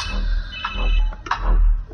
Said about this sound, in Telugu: ఫోన్ వస్తుంది చూడు, లిఫ్ట్ చెయ్యి.